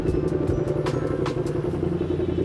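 Ducati Streetfighter V2 motorcycle fitted with an Austin Racing exhaust, a steady loud engine rumble with faint clattering and brief bursts of wind noise, no talking.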